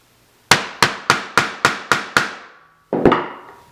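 A hammer drives a punch through a fabric panel of a DIY waist bag to make a stud hole, landing seven quick, evenly spaced sharp blows close by, then one more strike after a short pause.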